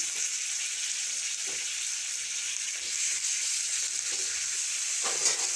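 Cut brinjal frying in a pan for prawn chutney gives a steady, even sizzle throughout, with a few soft stirring bumps now and then.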